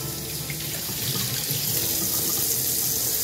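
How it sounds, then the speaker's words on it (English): A kitchen sink tap runs steadily, a loud, continuous splashing hiss of water heard close up, alone without speech. "I got some water running because it might be a little hot"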